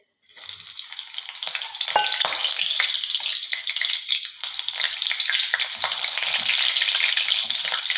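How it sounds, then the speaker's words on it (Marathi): Three cut green chillies drop into hot oil and fry with a sudden burst of sizzling, settling into a steady, fairly close crackle and hiss that keeps going to the end. "आता त्याच तेलात हिरवी मिरची तळून घेऊया"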